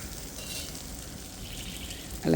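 Chilies frying in a pan with salt, a steady close hiss of sizzling oil throughout, swelling louder in a sudden burst near the end.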